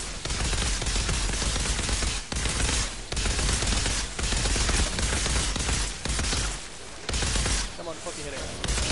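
Rapid bursts of temporal bullets gunfire in the video game Outriders, several clustered volleys broken by short gaps, loud and close, with crackling impacts near the end.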